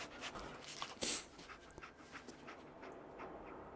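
Dogmeat, the dog companion in the video game Fallout 4, pants in quick soft breaths close by, a short louder burst near the middle, with a faint whimper and no talk.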